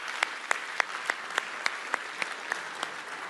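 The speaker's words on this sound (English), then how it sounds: "A ripple of laughter through the room and a round of applause" At a security forum session, a few slow, evenly spaced hand claps ring out at a distance over a quiet room hum, sparse rather than a full ovation.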